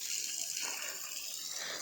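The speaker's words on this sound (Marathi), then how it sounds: "तर आता बघा सगळीकडे आता पाणी घालून घेतो." Water pours and splashes onto plants in a garden, a steady, close hiss of flowing water with no break.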